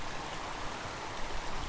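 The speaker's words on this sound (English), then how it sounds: "Beautiful little creek." A small mountain creek in beaver-pond country flows nearby, giving a steady, close, broadband babbling rush with no voices.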